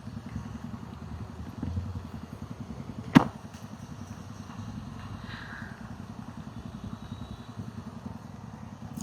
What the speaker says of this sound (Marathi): मी अक्षरशः पाण्यात गाडी चालवतोय आता